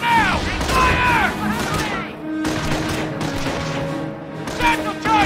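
Loud bursts of rifle and machine-gun fire crackle through a World War II firefight in Company of Heroes, set in Normandy, with booming blasts and shouted voices mixed over the continuous shooting.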